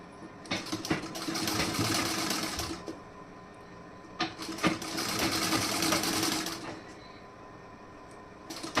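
A sewing machine stitches a fabric garment placket in two long, steady bursts of fast whirring and rattling with a short pause between, close and clear, with no talking.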